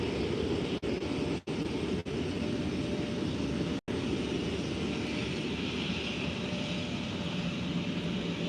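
An airliner roars at Faro Airport during early-morning planespotting, a loud, steady engine drone that holds throughout, punctuated by a few brief dropouts.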